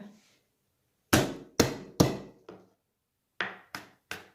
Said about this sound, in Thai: ต่อไปเราก็ทุบกระเทียมเลยนะคะ